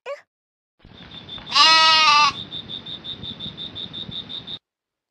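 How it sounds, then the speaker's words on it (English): A goat bleats once, loud and close, with a wavering cry lasting about a second, followed by a steady string of rhythmic chirping pulses from a synthetic animal sound effect. "G for goat."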